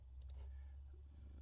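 Two quick mouse clicks close together, sharp and faint over a low steady hum, made while selecting lines in FreeCAD CAD software.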